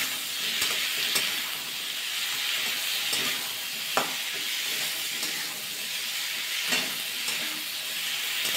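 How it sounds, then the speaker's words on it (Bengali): Steady, loud sizzle of beans, pumpkin, green chillies, tomato and peas frying together in a pan, with occasional sharp spoon stirs and scrapes and no talking. "এবার সব একসাথে দিয়ে ভালো করে ভাজা করে নেব।"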